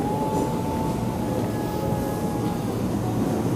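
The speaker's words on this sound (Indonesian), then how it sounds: "Nah yang kereta ke sana itu rupanya ke arah Manggarai." A steady low rumble of a commuter train passing Tebet station in Jakarta, heading toward Manggarai, continuous and fairly loud, with a faint tonal whine riding over the noise.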